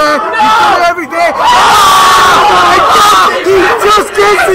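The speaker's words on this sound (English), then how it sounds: "The crowd right now is so tense." A tense tournament crowd cheers and yells loudly throughout a Super Smash Bros. winners finals match between Diddy Kong and Samus, with excited commentary voices shouting over the steady roar.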